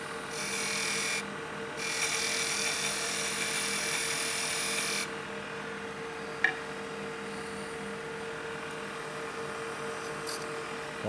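A wood lathe turns a deer grunt call as a parting tool cuts in, giving a bright, high whine for about five seconds with a short break, then a quieter hum and one sharp tap, with no talk.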